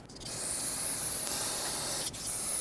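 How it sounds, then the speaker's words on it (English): Brake parts cleaner is sprayed onto a front brake caliper of a 2006-2010 Hyundai Sonata in one loud, close, continuous hiss of about two seconds, with a brief break near the end. "Use brake parts cleaner to rinse this off."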